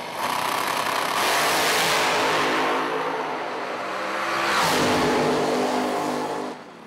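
A drag car roars through a burnout contest, its engine revving loud and close in a long sustained blast that eases slightly midway, then surges again before cutting off near the end.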